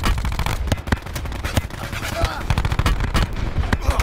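Rapid bursts of gunfire crack through a first-person shooter match, sharp close shots in uneven volleys with distant pops, while players talk over the action.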